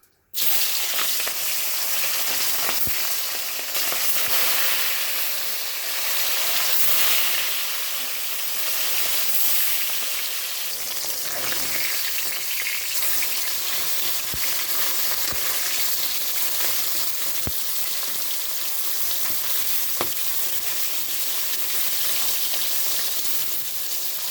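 Loud, continuous crackling sizzle of fish roe frying in hot oil, steady throughout with occasional faint pops and stirring sounds.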